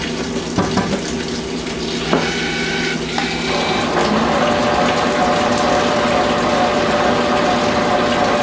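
A Made-in-the-USA HS Klee Line twist drill bores into armor plate without cutting fluid, producing a steady, loud grinding and ratcheting mechanical noise with squealing tonal whines throughout, heard alone.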